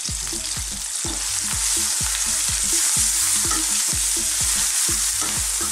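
Ground coriander, turmeric, chili powder and cumin powder hit hot oil in a pan, making a loud, close, continuous sizzle with regular rhythmic scraping as they are stirred, and no talk.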